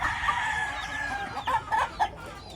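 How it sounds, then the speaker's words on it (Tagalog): Chickens clucking and crowing at moderate distance, several short bursts of clucks toward the end over a steady outdoor background. "Manok."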